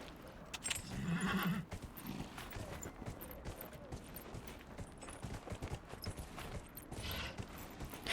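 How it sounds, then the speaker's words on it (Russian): Horse hooves clip-clopping in Dragon Age: Inquisition, a steady faint rhythmic plodding of a large, powerful horse under continuous ambient game noise with a brief louder snort or whinny early on. "Мне нравится то, что лошади в Инквизиции, они прям такие мощные, большие."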